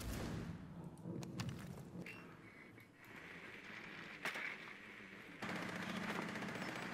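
Gunfire in the Black Ops 4 Blackout battle royale game, rapid bursts of automatic shots and sharp cracks, fairly close, over a constant background of game noise with no talk.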